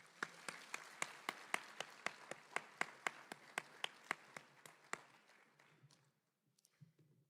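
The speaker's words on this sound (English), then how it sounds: "Now you may applaud." A small audience at a college opening convocation claps in a steady, evenly spaced rhythm of crisp individual claps that thins out after about five seconds, leaving near silence.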